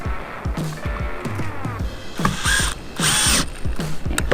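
A drill bores a 3/16 inch hole for the screws of a Maxx Air vent cover, with close, loud whirring in short bursts, rhythmic ratcheting knocks and a sustained grinding stretch near the end.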